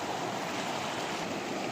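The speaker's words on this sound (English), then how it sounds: "there's the creek in flood" A creek in flood in Arizona rushes past as a steady, dense broadband roar of moving water, close and continuous with no pauses and no voices.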